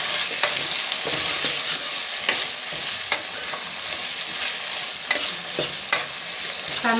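Tomatoes frying with ginger and garlic for gonghura mutton fry, a loud steady sizzle broken by repeated spatula scrapes and stirring knocks close up, with no voices.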